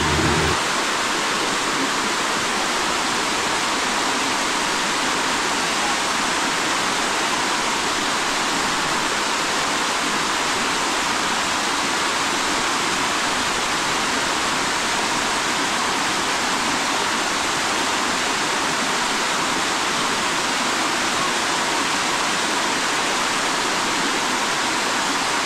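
Karugo Falls in Montalban, Rizal pours in a loud, unbroken roar of rushing water that holds steady throughout, with no voices over it.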